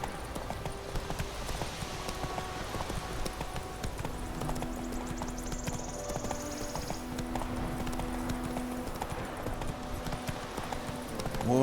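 Hoofbeats of the horse Roach galloping in The Witcher 3, a steady clip-clop rhythm running throughout with game music and ambient sounds underneath, plus a brief whinny.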